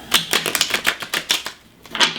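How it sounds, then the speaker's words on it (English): Casino quality tarot cards are riffle shuffled close up, a rapid ragged burst of crisp flicking clicks, a short pause, then another quick flutter, with no talking. "this was called the Rifle Shuffle. I'll do it one more time."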